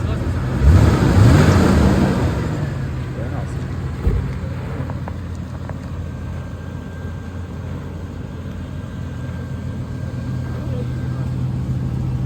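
A Chevrolet Caprice's engine is revved once, swelling into a loud roar early on and then settling back into a steadier, lower drone close by for the rest of the stretch.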